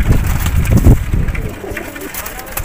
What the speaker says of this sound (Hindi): ये उड़ने वाले हैं उस्ताद के कबूतर,